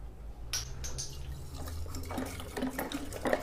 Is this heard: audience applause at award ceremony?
no